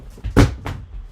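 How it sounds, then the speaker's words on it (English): A mobile phone knocked over and tumbling, making one sharp close thud followed by a smaller second knock, short and loud with no talk. "And I knocked my phone down."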